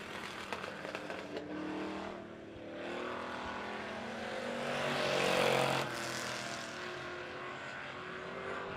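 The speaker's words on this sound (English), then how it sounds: "Down to a 2-car race here." Race cars lap Monett Motor Speedway during a heat race, engines droning at a distance, with one car swelling louder as it passes by midway before the sound eases back.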